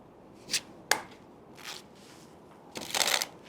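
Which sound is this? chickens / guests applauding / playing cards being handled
playing cards being handled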